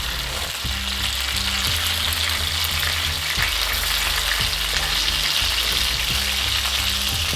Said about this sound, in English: pan fry both sides. So this is now almost finished the cooking.